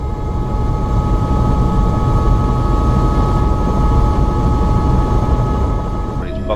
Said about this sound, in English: Pilot gets the rotors up to speed, getting them turning, ready for takeoff. We're lifting off